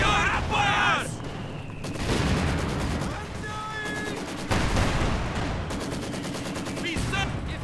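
Gunfire from the World War II strategy game Company of Heroes 2 in a winter defense battle: loud sustained bursts of machine-gun and rifle fire in several waves, with booming impacts and game voices shouting over the din.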